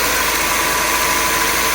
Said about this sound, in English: now we're gonna start the car and we'll hear the noise the compressor will be making